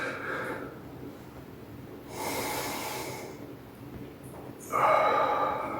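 Deep breathing exercise, in through the nose and out through the mouth: slow, close breaths with a sharp nasal inhale and longer airy exhales, the last breath out loudest.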